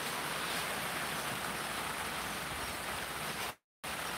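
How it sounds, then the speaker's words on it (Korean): Steady rain falling outdoors near a pond, a dense, even hiss of close rainfall that cuts out briefly near the end before resuming. "비가 와서 예, 연못으로 물이 팔팔팔팔 들어오고 있습니다"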